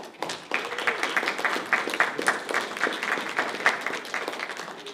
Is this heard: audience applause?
yes